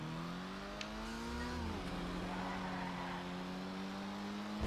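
Engine of a Dinka Jester RR car in GTA 5 Online, a steady droning roar with a pitch rise and shift partway through, loud and continuous with no talk.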